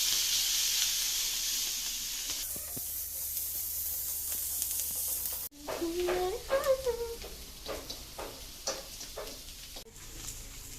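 Vegetables half-frying in a pan for veg chowmein, a broad steady sizzle and hiss up close that gives way to scraping stirring strokes and clatter partway through.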